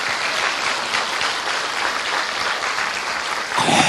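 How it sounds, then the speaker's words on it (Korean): Audience at a Korean Amway leadership gathering breaks into sustained applause, a dense, even wash of many hands clapping throughout, with a slight swell near the end. "이분들을 위해서 우리 박수 한번 좀 부탁 좀 드립니다."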